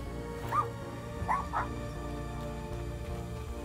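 A puppy whimpers in the dark adventure game Little Misfortune, with three short, high whines over a steady low musical drone.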